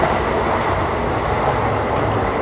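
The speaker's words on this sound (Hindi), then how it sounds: "तो फिलहाल हमारी ट्रेन चल चुकी है हरिद्वार रेलवे स्टेशन से" The Upasana Express runs steadily out of Haridwar station, a dense, continuous rumble of wheels and carriages heard from inside a crowded sleeper coach, loud and unbroken with no talk.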